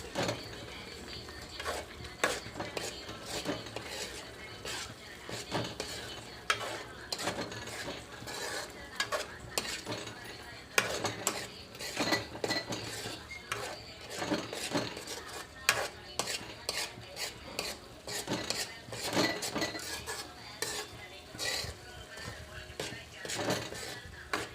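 Paneer curry fries in a pan under a steady run of sharp stirring clatters and spoon scrapes against metal, with a light sizzle beneath, close and fairly quiet.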